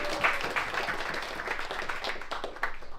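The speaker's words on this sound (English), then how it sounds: "And so you keep clapping, keep clapping" Live event audience clapping and applauding together for several seconds, a steady dense patter with scattered louder claps.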